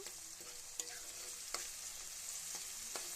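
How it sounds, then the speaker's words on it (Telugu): Onions and green chillies fry in hot oil for methi chicken curry, a faint steady sizzle under a few soft spoon taps against the pan. "దీంట్లో ఉల్లిగడ్డ ఇంకా పచ్చిమిరపకాయలు వేసేస్తున్నాము. ఇవి మంచిగా ఫ్రై కావాలండి."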